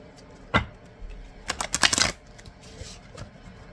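Angel Oracle cards handled and shuffled, a single sharp snap followed by a quick riffling flurry of card flicks, then softer rustling, close and quiet with no speech.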